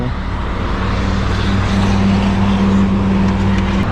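A broken-down car on a mountain road runs steadily while reversing, its engine drone loud and close with a low, even hum and no clear changes in pitch.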